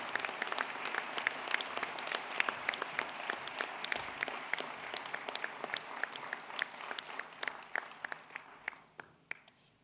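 Audience applause for outgoing directors at a board briefing, a dense, steady clatter of many hands that thins out toward the end, leaving a few scattered claps before it stops.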